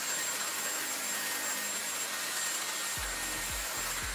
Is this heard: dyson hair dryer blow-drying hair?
yes